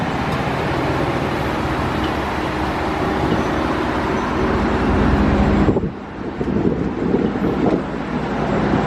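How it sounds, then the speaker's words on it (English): Strong wind buffets the microphone outdoors beside a lifted Cadillac Escalade truck, a loud continuous roar with a brief dip partway through, and distant traffic-like rumble beneath. "Sorry, I know it's windy"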